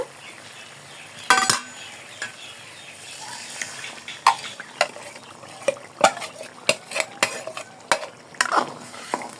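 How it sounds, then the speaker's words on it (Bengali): Chicken haleem with a soaked rice-and-lentil mix being stirred and sautéed in a pot, with frequent sharp scrapes and clinks of a spoon against the pan over a soft, steady cooking hiss. "আরও কিছুক্ষণ কষিয়ে নিব।"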